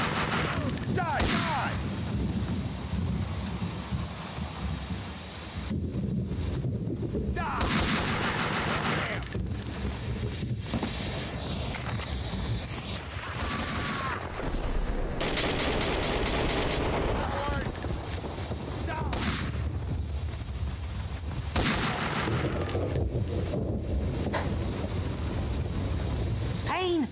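Gunfire in the video game Max Payne 2: loud bursts and volleys of shots in repeated clusters, mixed with shouting and voices talking over the action.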